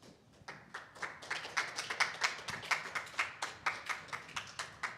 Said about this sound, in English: Please give Hamish Ganga a round of applause.